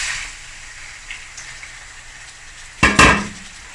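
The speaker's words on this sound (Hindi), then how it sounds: "दस 15 मिनट चिकन को ऑयल के साथ अच्छी तरह फ्राई करेंगे" Pieces of chicken fry in oil in a pan with a soft steady sizzle, broken by a few small clinks and then two loud metallic scrapes or knocks of a utensil against the pan.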